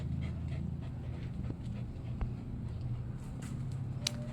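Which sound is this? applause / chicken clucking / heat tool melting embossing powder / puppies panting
puppies panting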